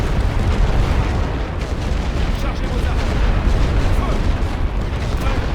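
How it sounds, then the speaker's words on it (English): Light artillery rolling barrage in a Great War Western Front game, a loud, dense, continuous rumble of overlapping blasts and booms with no pauses. "Looks like they're going for a rolling barrage. Light artillery."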